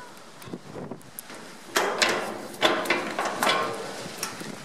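Bike locker bolt releasing after a button is pressed: a series of mechanical clicks and a sliding metallic clunk, close and moderately loud, with no voices.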